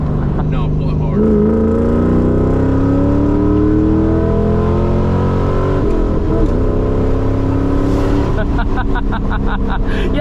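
A Ford Mustang GT SN95 New Edge with a 2V engine and 315 tires accelerates hard. The engine is loud and close, its note climbing steadily with gear shifts, and voices talk over it.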